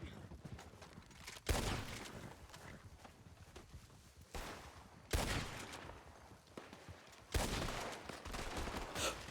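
Bursts of gunfire in Red Dead Redemption 2, loud volleys at intervals with a steady background rumble between them, no speech over them.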